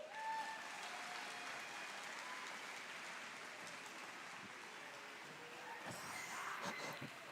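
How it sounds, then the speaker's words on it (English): Crowd at a musical ice show in an arena keeps up a soft, distant patter of clapping, steady throughout, with a faint sustained tone underneath and a few louder bumps near the end. "Keep the applause going."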